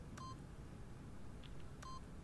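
Two short keypad beep sequences, about a second and a half apart, sound as a door code is punched in during The Stanley Parable; quiet and clean over a soft background hiss.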